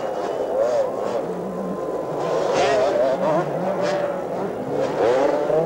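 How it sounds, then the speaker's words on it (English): Small 125cc Suzuki motorcycle racing in a C Grade supercross event at Olympic Park in 1982, its engine droning and rising as it is chased along with other bikes, steady and fairly loud throughout. "He's being chased by that 125 Suzuki in second place"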